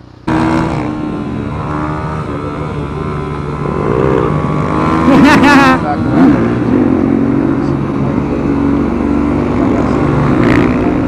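A motard motorcycle ridden down a rough street, its engine droning close with rising revs and bumps, while a rider's voice talks and whoops over the engine noise.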